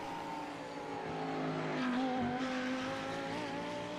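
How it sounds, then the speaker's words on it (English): A Lamborghini race car in the iRacing sim at Long Beach drones steadily with rising and falling engine tones, the exhaust note swelling near the midpoint before easing, loud and continuous with no talk. "Did you hear that crackle of the exhaust?"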